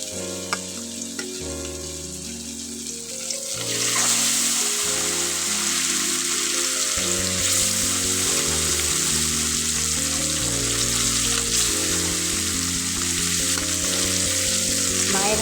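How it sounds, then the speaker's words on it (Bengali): Whole fish fry one by one in hot oil, a steady close sizzle that swells louder after a few seconds, with background music playing throughout and no voices. "এই যে আমার মার তেল গরম হয়ে গেছে, আমার মা এই যে ভাজবে, এক এক করে পুরো মাছ ভাজবে।"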